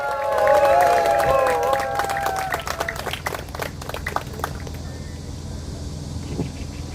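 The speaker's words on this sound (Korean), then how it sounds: "큰 박수로 맞아주시기 바랍니다" An audience at a political rally in Incheon claps to welcome a speaker to the stage, a crowd of hands under a brief shout at the start. The clapping thins and fades gradually toward the end.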